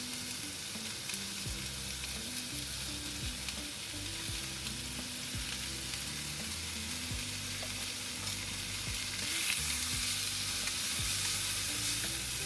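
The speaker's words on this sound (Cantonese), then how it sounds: "我哋將啲醬汁都可以擺埋落去煎香佢" Chicken and sauce fry in a wok with sweetcorn, giving a loud, dense, continuous sizzle with stirring underneath that swells slightly toward the end.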